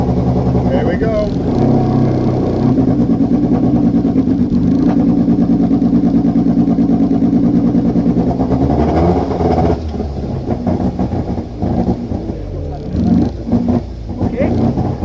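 A car with a 1.6 engine and a misfire runs at a track noise test at Brands Hatch, giving a steady loud engine drone with uneven pulsing and revs, and people talking over it.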